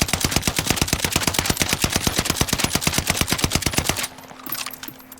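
Rapid automatic fire from the NZ-41 rifle in a video game, a loud, steady stream of evenly spaced shots lasting about four seconds, then cutting off into quieter game ambience.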